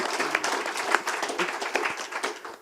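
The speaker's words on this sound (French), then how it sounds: "Ça mérite quelques applaudissements, je pense." An audience at a literary evening in Paris claps for a few seconds, a dense, fairly close round of applause that thins out toward the end.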